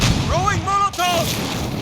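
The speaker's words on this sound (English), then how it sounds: "Throwing Molotov!" A Molotov cocktail is thrown and bursts in a team deathmatch shooter game on the Al-Raab Airbase map. A loud, continuous roaring crackle fills the clip, with brief wavering tonal cries and a short dip near the middle.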